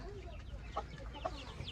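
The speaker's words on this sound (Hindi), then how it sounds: "मुर्गी मट्टी में खेल रही है" A hen scratches in the dirt with her small chicks nearby, giving a few soft, quiet clucks and brief calls over low background noise.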